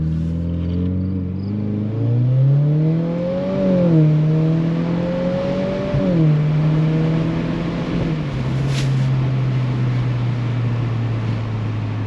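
A 2022 Subaru WRX with an ETS cat-back exhaust climbs steadily in pitch as it accelerates on a main road, then settles into a deep, steady drone, heard from nearby with no voices.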